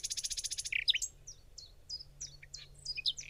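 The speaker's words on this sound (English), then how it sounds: "Just walking in the woods, listening to some birds." Birds chirp in the woods of the Siren Head video game, starting with a rapid trilling series and then scattered short tweets, fairly close and quiet, with no voices.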